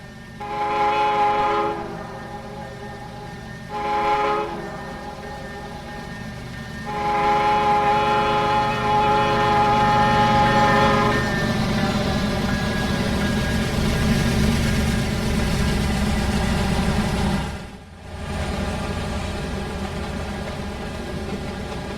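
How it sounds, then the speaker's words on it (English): A Norfolk Southern freight train in the Trainz game, led by a Union Pacific ES44AH locomotive, sounds several loud horn blasts over a steady engine drone, then a long sustained horn that cuts off sharply near the end. "With the Union Pacific version of an ES 4400 AH on the point, 8137 leads the train through the track dip here at Partridge."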